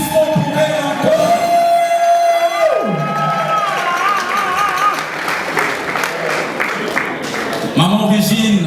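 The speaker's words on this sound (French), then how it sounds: "Un maximum d'applaudissements pour elle encore." An audience at a 50th birthday party applauds and cheers loudly, with children shouting and whooping. Amplified speech and music tones rise over the crowd, which stays loud and close throughout.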